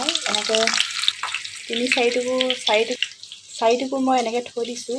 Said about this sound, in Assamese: আলুখিনি অলপ মই ইয়াতে দি দিম ফ্ৰাই কৰি হ'বলৈ